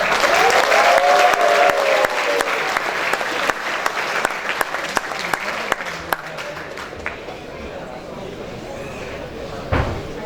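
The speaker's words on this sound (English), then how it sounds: "can we have one more round of applause for sir?" A crowd applauds steadily at a Toastmasters event, dense clapping with a few sharper slaps standing out, fading gradually toward the end.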